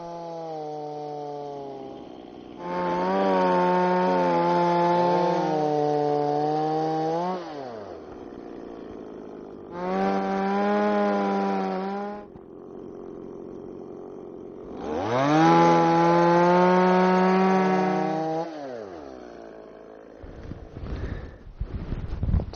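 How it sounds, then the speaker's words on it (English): A chainsaw cuts a crisscross star pattern down into the top of a log, sounding in three loud, close bursts separated by lower idling stretches, with wind noise at the end. "cut a crisscross star pattern down from the top of the log"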